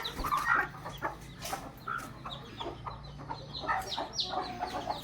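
A free-range desi hen clucks steadily nearby with soft, busy chicken sounds and scattered peeps from her eleven chicks, no talking.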